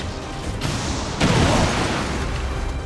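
A rocket launcher built into an exo or war suit explodes in the video game XCOM 2, a loud broadband boom bursting about a second in and rumbling on against a noisy backdrop of game sound.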